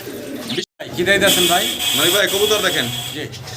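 American Captor pigeons coo close by in a loft, with repeated throaty rolling calls that rise and fall across the stretch and only a brief pause.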